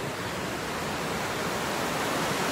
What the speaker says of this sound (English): That's actually the creek.